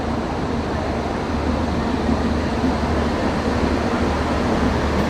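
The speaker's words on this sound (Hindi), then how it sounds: "ये देखो अभी लोकोमोटिव बस पहुंच गया है कपलिंग के लिए।" Steady low rumble and broadband hiss of a Royapuram shed WP7 railway locomotive drawing up for coupling at a station, continuous and fairly loud throughout, with no distinct clanks or horn.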